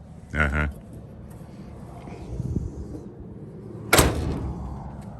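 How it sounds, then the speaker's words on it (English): A solid slam near the start, a heavy metallic thud of a 1962 Chevrolet Impala's hood shutting, then a second sharp slam later over low background noise. "Oh, the sound of that hood."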